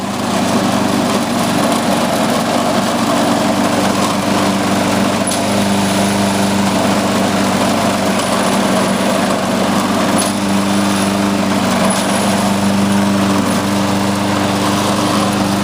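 A Lawn-Boy lawn mower engine runs steadily with its transmission drive engaged, a close, constant droning hum that holds at even loudness throughout with no talking.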